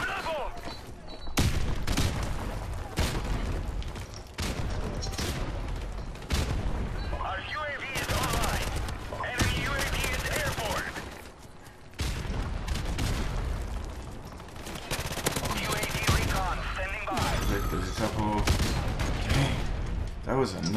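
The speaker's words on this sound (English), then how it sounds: "I'm just using a suppressed P90." Dense gunfire and booms fill a chaotic multiplayer match in Modern Warfare Remastered, where a suppressed P90 is in use, with near-continuous volleys, occasional explosions and voices talking over the noise.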